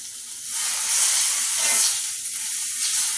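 Butter sizzling in a hot pan on a homestead kitchen stove makes a steady, bright hiss that swells and eases slightly, close and continuous with no talking.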